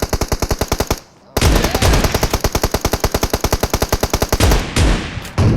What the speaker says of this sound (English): Who the hell shoots a fox with a 50 cal?